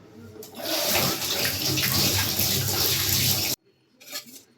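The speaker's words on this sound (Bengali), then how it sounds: "হাতটা ধুয়ে নেবো আগে" Hands washed under a running tap in a home sink, a loud steady rush of water for a few seconds that cuts off abruptly, followed by a brief splash.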